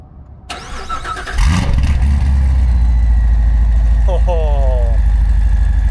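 A supercharged C7 Corvette engine cranks and fires up for its first start, then settles into a loud, steady idle with a whining, high-pitched supercharger tone riding over the low rumble.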